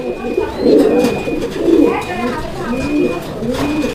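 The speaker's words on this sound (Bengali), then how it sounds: "এখানে আরও একজোড়া বিউটি হোমার কবুতরের কালেকশন রয়েছে এটাও জার্মান বিউটি হোমার কবুতরের একটা পেয়ার" A pair of German Beauty Homer pigeons coo up close, their low, throaty rolling calls repeating in loud, rhythmic phrases with a faint thin tone in the background.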